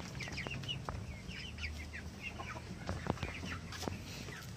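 Chickens on a farm floor beneath a raised poultry house, near harvest age, give scattered clucks and soft chirps over a steady low barn hum, continuous at moderate distance with no talk.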